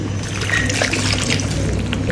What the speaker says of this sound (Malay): masukkan lebihan air dalam blender ni